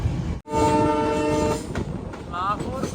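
A train rolls downhill on a winding line between Haflong and Guwahati, its horn sounding loud and sustained for about a second before track rumble and clatter take over, with a faint voice near the end.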